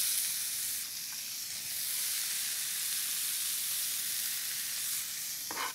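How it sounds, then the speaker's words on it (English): Onion and garlic sizzle in a skillet, a dense steady hiss with a brief stir near the end, close and uninterrupted, no talking. "In the same pan, I'm going to go ahead and combine our onion and our garlic."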